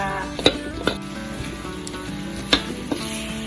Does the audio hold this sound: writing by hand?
no